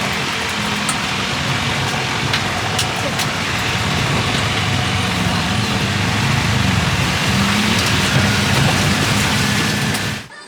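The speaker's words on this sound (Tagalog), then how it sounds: "Lumalakas ang ulan." Heavy rain during Super Typhoon Pepito pours steadily, a dense continuous hiss with occasional drips and a low rumble of passing traffic underneath, unbroken and close for the whole stretch.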